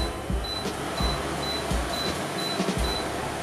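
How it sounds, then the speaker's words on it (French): A ForceClima 12300 connected air conditioner switched on and running in a home, giving a steady fan hum with a few soft periodic clicks and beeps from the unit, no voices. "La clim est activée"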